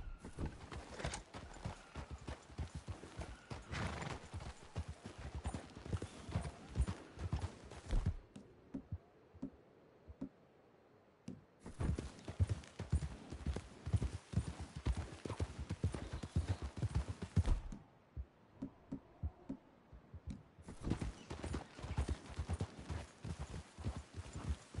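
Horse hooves clip-clop in a brisk, steady rhythm in the video game Red Dead, broken by two short pauses, with an occasional whinny mixed in.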